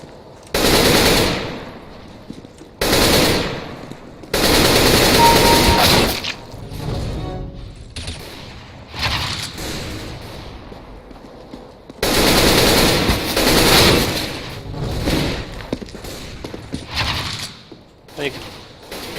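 AK rifle fire in Counter-Strike: Global Offensive comes as several loud, sharp bursts of automatic shots separated by short gaps, with a voice talking between and over the volleys.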